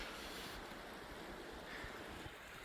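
River and creek water rushes steadily near mountain lakes, a dense, even wash of flowing water with some wind-like hiss, constant and close throughout, with no voices.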